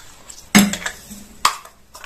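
Ground oats scraped from a mixer jar into a bowl, with two sharp clinks of utensil on metal and faint scraping in between.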